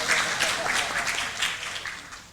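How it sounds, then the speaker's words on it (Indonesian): An audience at a Catholic talk in Indonesia claps in a steady burst of applause that stays fairly close and gradually tapers off toward the end. "tepuk tangan lagi"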